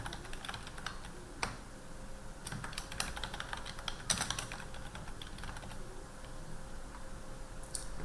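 Fingers tap steadily on a computer keyboard at moderate volume, a quiet stream of clicks with brief pauses and a few sharper keystrokes, without any talking.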